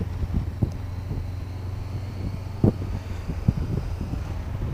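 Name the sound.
wind blowing while riding a motorcycle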